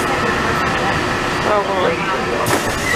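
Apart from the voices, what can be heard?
Walt Disney World monorail ride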